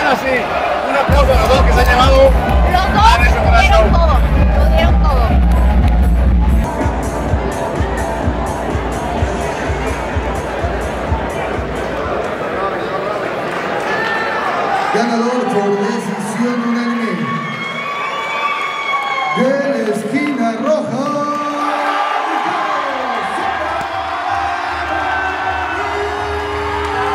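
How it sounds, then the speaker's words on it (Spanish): Crowd at a PredadorFC 47 fight event cheering, whooping and shouting for two fighters, a loud dense roar that later thins into scattered yells and shouting voices. "Un aplauso a los dos que se han llevado."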